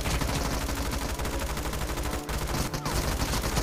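Continuous rapid gunfire from the video game PUBG (BGMI) fills the sound, loud and dense, automatic bursts overlapping without pause.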